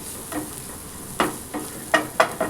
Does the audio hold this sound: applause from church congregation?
no